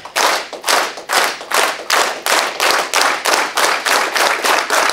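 A group claps together in unison, about a dozen sharp, loud claps that come steadily and gradually faster, with no talking.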